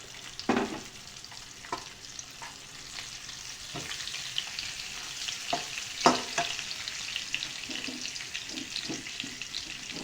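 Butter, browning garlic and white cumin sizzle in a pan, a soft steady hiss broken by sharp spatters and scraping stirs, with a louder burst near the start and more crackles toward the middle.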